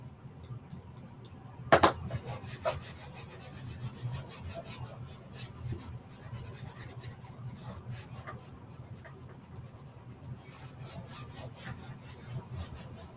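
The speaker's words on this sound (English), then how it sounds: "I think I'll just go ahead and wax the entire stripe." Wax rubbed by hand over a painted stripe on a wooden door round, making repeated soft scraping and rubbing strokes close up, with a sharper knock near the start and no talk.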